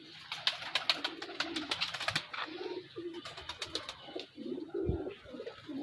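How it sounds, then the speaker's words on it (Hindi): Salara pigeons coo close by with soft, repeated throaty calls. Brief flutters and rustles mix in, all at a low, quiet level. "ये हमारा सलारा कबूतर है।"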